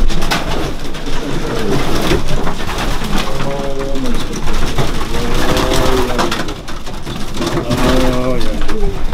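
Racing pigeons coo in repeated soft, throaty phrases, close by in a pigeon loft, amid a busy background of rustling and faint voices.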